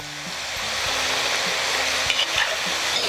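Sago chips being stirred in hot frying oil at home, a steady close sizzle with soft scraping stirs and occasional light knocks of the spoon against the pan.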